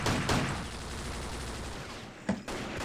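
Gunfire in the Vietnam War shooter game Vietcong during co-op play, a quiet burst of shots at the start and another short crack near the end over a low, continuous battlefield rumble.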